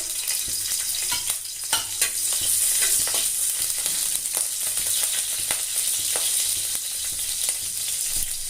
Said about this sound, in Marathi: आता मिरच्या चांगल्या परतून देऊ